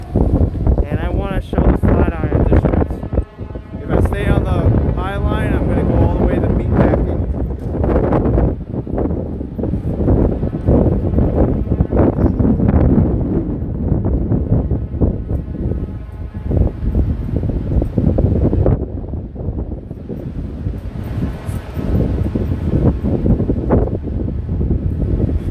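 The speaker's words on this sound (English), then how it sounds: "it's quite windy up here." Strong wind buffets the microphone high up outdoors in Manhattan, a steady loud roar with gusty swells throughout, and a voice talks over it in places.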